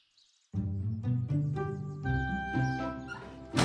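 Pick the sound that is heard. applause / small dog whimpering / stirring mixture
small dog whimpering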